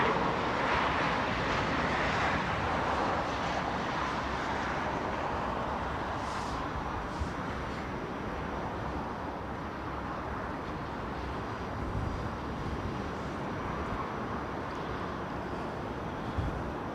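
A freighter aircraft departs Heathrow on a Frankfurt run, a broad steady jet rumble filling the air at a distance, with wind noise buffeting the microphone throughout.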